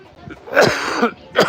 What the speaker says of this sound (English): I'm coughing because I've been yelling so much.